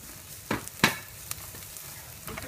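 Chili powder drops into spring onions frying in a pan, giving a soft, quiet sizzle broken by a few sharp crackles and scraping stirs.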